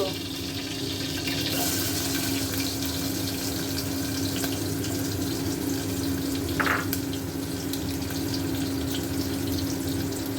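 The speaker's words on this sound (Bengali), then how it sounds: "এখন গোটা জিরে দিব পেঁয়াজ দিয়ে দিব" Whole cumin seeds and onion go into hot oil in a pot, giving a steady close sizzle and hiss under a constant low hum, with a brief sharper burst partway through.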